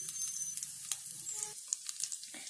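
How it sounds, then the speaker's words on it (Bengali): A bay leaf sizzles in a little hot oil in a kadai at the start of cooking ghugni, a close steady hiss dotted with small quick pops. "এখন কড়াইতে প্রথম আমি তেজপাতা দিলাম"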